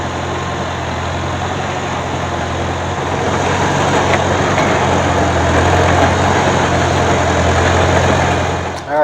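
A 1953 Farmall Super C tractor engine runs steadily near the microphone, a loud continuous low chugging drone with no pauses and no speech over it.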